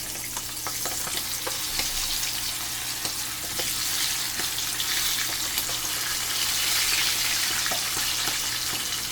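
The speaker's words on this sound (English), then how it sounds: "So what we're gonna do now is start frying our wings." Chicken wings frying in oil on medium heat, a continuous close sizzle with scattered pops and crackles, steady and unbroken throughout.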